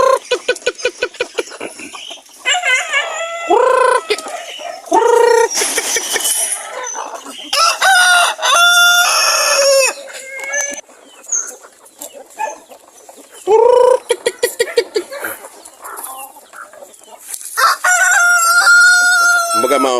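Farm chickens and roosters make a busy, close chorus of repeated cock-a-doodle-doo crowing mixed with clucking and cackling, several birds overlapping throughout with short quiet gaps between calls.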